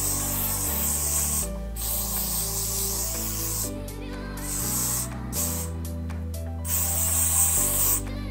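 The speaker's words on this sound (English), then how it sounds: "Hairspray once again, like everything." Hairspray sprayed over short hair in several hissing bursts of varying length, close and loud, separated by brief pauses.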